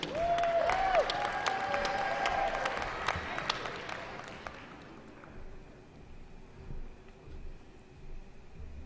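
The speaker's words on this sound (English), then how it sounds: "I think that deserves one more rousing round of applause, everyone" Audience applause at a SUNY Oswego commencement ceremony, loud, dense clapping from a large crowd with a brief whistle-like tone at the start, thinning and fading away after about five seconds into quiet room noise.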